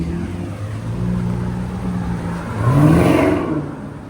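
A 650 hp Chevrolet Camaro ZL1 rumbles at a steady low pitch, then its engine swells into a louder rising roar as it accelerates late on, before easing off.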